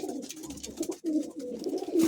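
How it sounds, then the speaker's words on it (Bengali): Caged pigeons, border-bred fancy birds kept at a home loft, coo in low, throaty, rolling phrases, several overlapping close by with short pauses between bursts. "এই শেষের খাঁচার যে পায়রাগুলো, সেই পায়রাগুলো কিন্তু বর্ডার থেকেই আনা"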